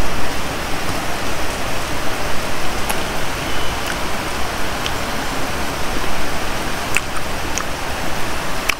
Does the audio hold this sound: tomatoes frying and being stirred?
no